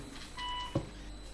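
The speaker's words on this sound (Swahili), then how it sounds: "Naona simu nyingine inaingia." A single electronic beep signals an incoming phone call in a radio studio, a short steady tone sounding faintly against quiet room noise, followed by a soft click.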